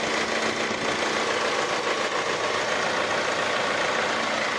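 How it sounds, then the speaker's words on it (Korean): A minivan engine idles steadily up close with the hood open, a constant rumbling drone with a faint mechanical ticking and no talking. "바로 엔진 소리도 한번 들려드리도록 할게요."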